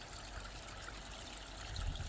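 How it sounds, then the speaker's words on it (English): Pond water trickling steadily into a stream after a leak repair, a soft continuous watery wash that swells slightly near the end, with no voices. "now the water's going into the stream like that"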